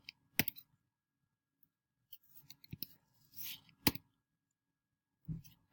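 Keyboard shortcut keys clicked during digital painting on a tablet, several sharp isolated taps spaced irregularly in a quiet room, with faint soft handling sounds between them.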